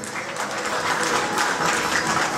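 Audience applause at an award ceremony honouring local activists, a dense steady clapping that holds at an even level throughout with no break.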